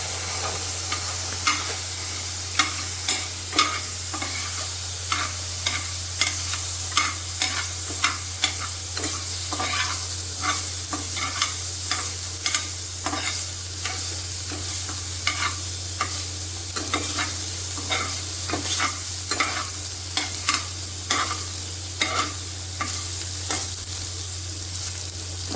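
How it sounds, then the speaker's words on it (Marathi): Chicken fat sizzles and melts in a hot kadai, a steady frying crackle with repeated stirring scrapes throughout, close and fairly loud with no talking. "कढई गरम झालेली आहे तर आपण त्याच्यामध्ये ही जी आपण चरबी काढली होती ती आता आपण टाकून घेऊया"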